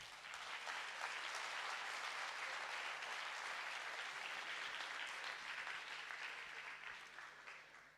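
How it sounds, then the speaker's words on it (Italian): A village audience gives a warm, sustained round of applause to the Sclaunic theatre company, many hands clapping at moderate distance in a steady wash that tapers slightly at the end. "Un bel applauso che dà animo alla compagnia di Sclaunic."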